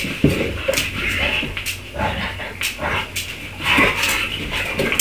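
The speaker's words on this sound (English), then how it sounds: "That was Ozzy and Natty and his dogs." Dogs whimper and yip in short, uneven bursts over several seconds, with occasional sharper barks and some shuffling and clattering nearby, and no voices.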